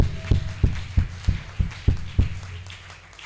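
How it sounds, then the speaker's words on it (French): A church congregation claps in a steady unison beat, seven or so loud, evenly spaced claps about a third of a second apart, close by and without speech. "Donne une acclamation à ton Dieu"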